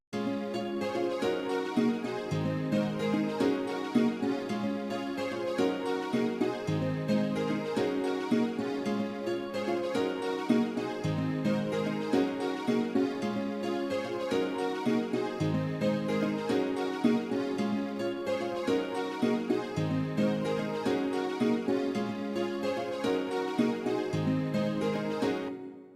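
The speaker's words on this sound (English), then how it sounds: "let me just play all of these 5 instruments so that you can hear them with the pianos and also the brass and the strings" A seben (sebene) beat built in FL Studio plays continuously, with layered piano, brass and string parts over a steady rhythmic groove, loud and dense throughout with no talking.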